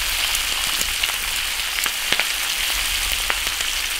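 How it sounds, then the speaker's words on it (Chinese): Beef being stir-fried in an iron wok for a spicy dry pot dish, a loud continuous hiss and crackle of hot oil with scattered sharp pops and faint scraping, close and steady. "翻炒均匀，开始调味"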